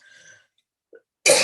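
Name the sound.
cough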